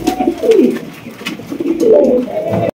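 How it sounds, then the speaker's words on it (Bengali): A grey Lahori pigeon coos in close, soft, throaty rolling phrases that swell and fade, with faint background rustle. "এখানে রয়েছে আরো একজন লাহোরি কবুতর"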